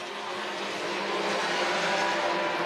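Hobby stock race cars lap Crawford County Speedway, their engines blending into a dense, continuous roar that holds steady and slightly swells, with no voices over it.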